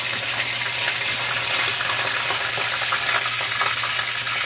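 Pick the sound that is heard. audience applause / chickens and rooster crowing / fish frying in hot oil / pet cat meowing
fish frying in hot oil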